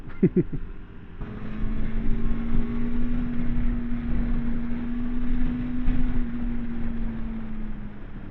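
A 2022 KTM 390 Adventure motorcycle engine hums at a steady, moderate pace around 4,000 rpm, a sustained drone with a rough, slightly vibrating texture after a brief burst of revving at the start.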